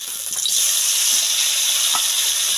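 Dried ribbonfish, coated in salt and turmeric, frying in hot mustard oil, giving a steady loud sizzle with faint stirring clicks throughout.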